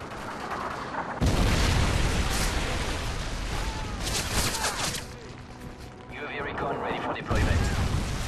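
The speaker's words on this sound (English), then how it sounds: "Friendly Predator missile inbound." Predator missile strikes explode in online Call of Duty MW3 multiplayer on Xbox 360: heavy booming blasts hit at intervals over a continuous roar of gunfire and rumble, while game voice announcements come through faintly.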